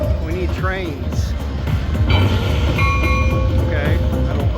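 Electronic train sound effects play in a slot machine bonus feature, whistles and rolling rail clatter over game jingles, with someone talking over much of it.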